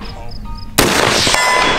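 A single sharp, loud gunshot is fired at a target after a moment of faint tonal background, and the blast rings out in a long, bright decay.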